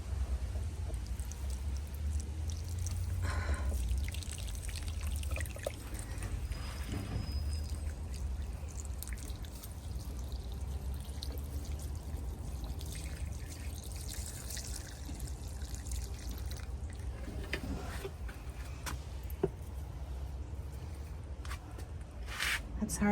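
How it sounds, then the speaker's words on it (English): Mums in a yard are watered, a continuous low rush and trickle of running water over the whole stretch, with occasional brief clatters and faint background activity. "Let's go water the mums while we're waiting."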